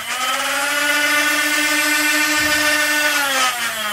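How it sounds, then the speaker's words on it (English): Motors on a heavily modified Nerf Barricade blaster run on a 9-volt battery, producing a loud, steady high-pitched whine that holds for several seconds with a slight pitch wobble, close and with no talking. "it clicks down that button and up the motors go"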